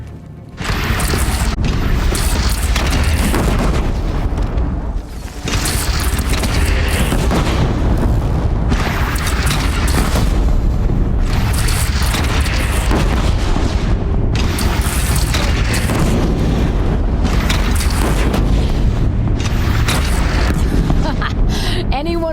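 Heavy cannon fire booms repeatedly in a Horizon Zero Dawn battle against a bandit clan, loud dense blasts and rumble filling the scene with short pauses between volleys, voices shouting over the din.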